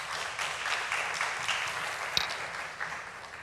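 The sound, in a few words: applause welcoming the professor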